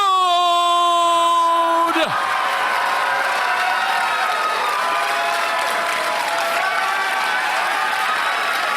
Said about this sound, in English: Boy, the crowd's going crazy.